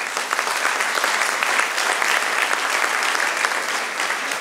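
Steady, dense applause fills the hall as an audience at a student forum claps for the thousands of students hosting it, sustained and even throughout with no break.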